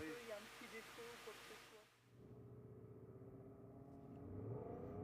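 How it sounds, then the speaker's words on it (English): A Nissan V8 engine in a European Endurance Prototype Cup car at Magny-Cours restarts during qualifying, rising out of a brief lull into a steady, loud low rumble that slowly builds, with commentary voices over it. "The Nissan V8 rumbles back into life"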